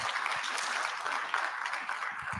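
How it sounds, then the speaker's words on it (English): Audience applause at a medical college fellowship induction in Ghana, a moderately dense, somewhat subdued wash of claps heard from a distance. "the clap is not strong for my college president"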